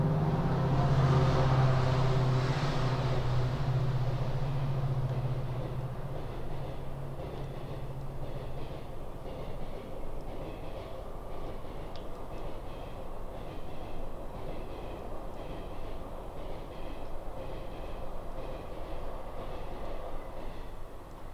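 A train passes near a railway station, a loud rumbling approach with a low horn-like tone early on, then steady wheel clatter and rolling noise fading slightly as carriages continue by.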